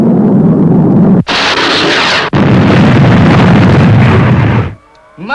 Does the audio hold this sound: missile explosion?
yes